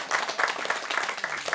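Audience applause at a television chat show after a magician's yo-yo tricks, a steady dense patter of clapping hands filling the room with no voices over it.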